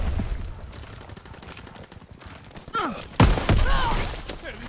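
Gunfire in a Dia D video game battle, with rapid bursts and single loud shots up close, crowded in at the end, while players talk over it.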